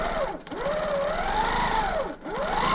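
Sewing machine stitching free-motion quilted feathers, a continuous fast mechanical whir whose pitch rises and falls as the speed changes, with two brief pauses, close and steady.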